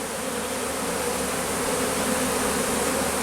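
A honeybee swarm being gathered by a beekeeper gives off a dense, steady buzz, close and continuous with no voices over it.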